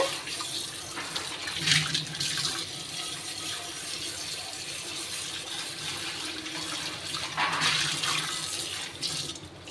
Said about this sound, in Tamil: தண்ணி வச்சு கழுவிடுங்க